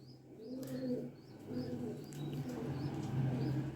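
A flying Teddy pigeon coos in repeated soft, low rolling phrases, close by, with faint chirps and light rustling between calls.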